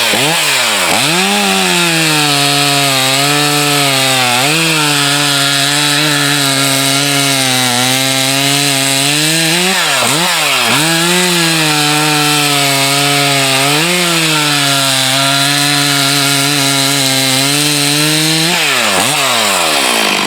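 Chainsaws, a Stihl MS461 and a Husqvarna 372XP with HyWay cylinders, rip through hard wood with a loud, continuous high-revving whine that sags and recovers under load through the cut, close and alone with no voices.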